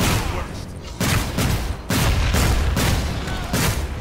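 Gunfire aimed at a monster in the Evolve video game comes in repeated heavy volleys, several loud bursts separated by brief gaps, with faint voices under them.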